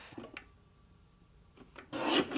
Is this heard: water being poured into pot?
no